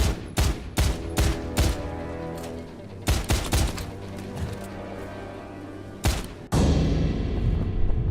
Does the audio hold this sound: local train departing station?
no